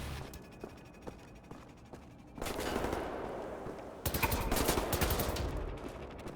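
Gunfire in the first-person shooter Wolfenstein: The New Order: scattered shots give way to two loud, sustained bursts of automatic fire, close and dense, with no one talking over it.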